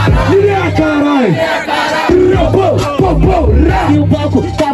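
A crowd at a Brazilian freestyle rap battle chants and yells loudly in unison, with rhythmic rising and falling shouts that fill the space up close.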